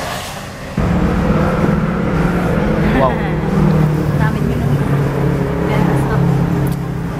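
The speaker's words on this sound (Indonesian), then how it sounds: "Suara mobil" A car passes close by with a steady engine hum and road noise, while a voice briefly exclaims over it.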